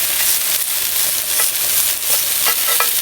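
Italian sausage, brown mushrooms and spring onion sautéing in a pan, a steady close sizzle with stirring scrapes and light clicks throughout, no voices.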